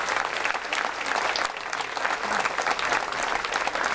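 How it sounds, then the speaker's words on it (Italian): An audience claps at the Premio Caccuri award event, honouring Nicola Gratteri's escort officers: dense, steady applause from a crowd, close and even throughout with no talk over it. "facciamo un applauso anche a loro"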